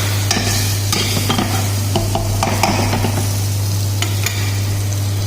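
Spices such as turmeric, black pepper and salt sauté in a pan for bitter gourd soup, sizzling steadily with repeated scraping stirs and utensil clicks against a constant low hum, no voices.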